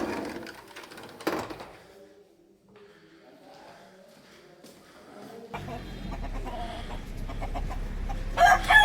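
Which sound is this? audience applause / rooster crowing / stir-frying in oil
rooster crowing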